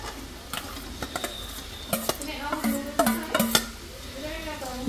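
Boiled black chickpeas with some of their liquid go into a pot of soaked rice and oil for kala chana pulao, giving scattered clinks and scrapes of a ladle against metal and soft pouring, fairly quiet and close.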